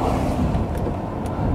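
A 2008 Ferrari 599 GTB Fiorano with its 6-litre V12, heard from inside as a dense, loud, steady engine drone and road roar, with no voices.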